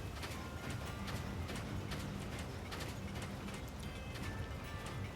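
Horse hooves clip-clop in the video game NieR:Automata, a steady run of quiet, repeated hoof beats over a faint mechanical background hum, with no talk.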